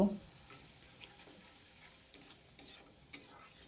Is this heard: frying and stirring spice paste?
yes